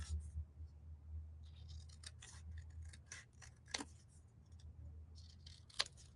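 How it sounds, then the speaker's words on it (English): Scissors snip straight across a printed paper napkin for shadowbox art, a run of quiet crisp close cuts with a few sharper clicks, faint under a low background hum. "So I'm going to cut real straight across that."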